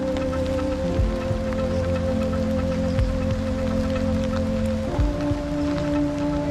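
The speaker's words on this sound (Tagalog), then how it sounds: "mauwan diri nagsugod" Steady rain falls in Barangay Cotcot, Liloan, Cebu, weeks after Typhoon Tino, a dense continuous patter on surfaces with a low rumble beneath and occasional heavier thumps, no voices.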